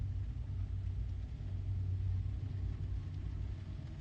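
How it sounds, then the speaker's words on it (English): A car drives by on a street at night, heard as a steady, fairly loud low engine rumble that swells slightly midway and holds through the whole stretch, with no voices. "Is it gonna drive off when this car drives by me?"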